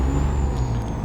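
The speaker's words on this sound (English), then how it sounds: "I love the way this truck sounds" Freightliner FL Classic truck in the American Truck Simulator game, a steady loud diesel rumble with a brief hissing air-brake release over it, close and continuous with no talk.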